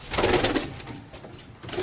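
A large pigeon gives soft, low coos close by, rising and falling in short phrases with no talking over them.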